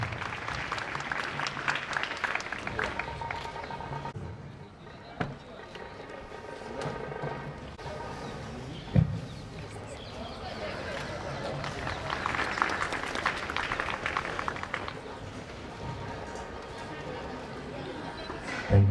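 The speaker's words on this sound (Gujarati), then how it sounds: "એમના માટે ખૂબ તાળીઓ થઈ જાય" An audience applauds at a state skill competition ceremony, with dense, sustained clapping that swells and eases in waves. A couple of thumps break through, and speech mixes in at times.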